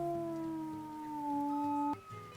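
A wolf in a survival game gives one long, sustained howl that holds a steady tone and then drops in pitch before cutting off, clear and alone at moderate volume.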